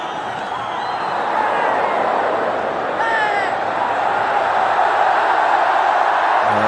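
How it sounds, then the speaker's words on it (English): A noisy cricket stadium crowd during an India versus Australia match roars in a steady, dense wash of voices, loud and continuous, with faint whistles. "It's a very noisy crowd."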